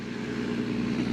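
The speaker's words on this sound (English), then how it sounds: "We have the trucks going by." Trucks pass on a rural farm road, a steady low engine rumble and tire roar that holds evenly at moderate distance through the short stretch.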